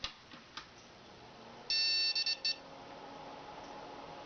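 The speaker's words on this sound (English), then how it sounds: "That's a beep for no video card." A 486 computer with no video card gives a short series of electronic warning beeps, one longer tone followed by a few quick ones, over a faint hum of fans and clicks.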